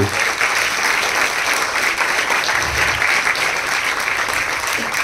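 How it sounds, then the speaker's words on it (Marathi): An audience at an anniversary event gives steady, loud applause, a dense continuous clatter of many hands filling the whole stretch. "आपण पुन्हा एकदा जोरदार टाळ्या वाजवून त्यांचे"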